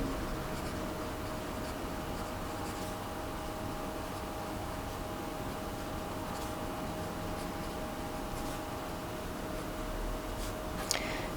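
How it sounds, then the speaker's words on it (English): Pen or pencil writing out a similarity rule by hand on paper, a soft continuous scratching that runs steadily throughout, close and faint over a light background hiss, with no talking. "so I'll just write our rule."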